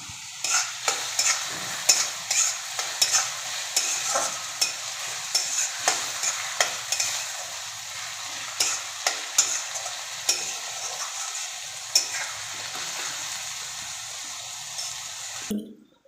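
Fried onion-tomato masala for dhaba-style egg bhurji is stirred in a hot pan, with a low sizzle under a regular series of sharp spoon scrapes and taps, close up, ending with a quick clatter.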